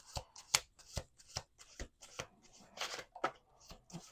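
Playing cards are shuffled in a rapid series of crisp riffles and slaps, close and distinct, with no voices.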